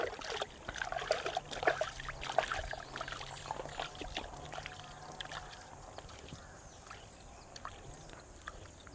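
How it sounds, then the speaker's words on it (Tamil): Fish being washed by hand in a vessel of water for a village-style fish curry, with irregular splashing, pouring and trickling close by, livelier at first and then settling into quieter dribbles. "சுத்தமாக மண் இல்லாமல் கழுவி எடுத்துக்கணும் மக்களே"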